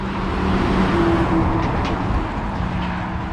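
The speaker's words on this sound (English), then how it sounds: "you got all these quarry trucks going by too" Heavy quarry trucks roll past on a roadside, a continuous low traffic rumble with no voices, the engine noise peaking briefly midway.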